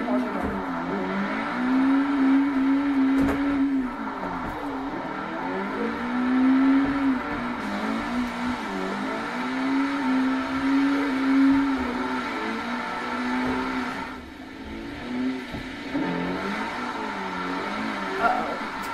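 Simulated drift car engine in Forza Horizon 3, revving up and down continuously with wavering pitch and a steady racing drone, running with simulation steering during a drift run, with occasional faint scuffs.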